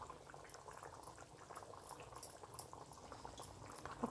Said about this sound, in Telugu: ఒక్క 2 మినిట్స్ ఆయిల్ పైకి తేలేంత వరకు మరిగించుకుందాం.